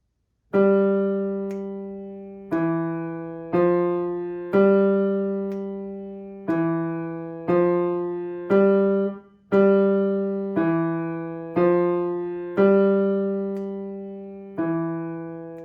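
Piano chords from a beginner adult piano lesson struck one after another in a slow, steady rhythm, each ringing out and fading before the next, about a dozen in all, with no voices.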